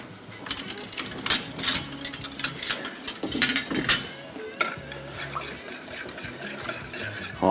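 A spoon stirring dark soy sauce and cornflour together in a bowl, giving repeated close clinks and scrapes against the dish in irregular bursts, which quieten toward the end.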